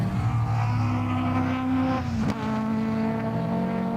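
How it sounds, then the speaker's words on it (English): Rally car idling and revving on a stage start line at the first rally of the year, a loud steady engine drone with tonal harmonics and a brief pitch dip midway, no talk. "I can hear another car on the start line"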